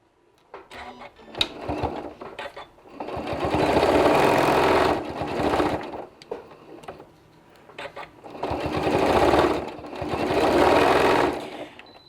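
A sewing machine stitches fabric layered with batting, running in two long steady bursts separated by pauses with small clicks and handling noises, close and fairly loud.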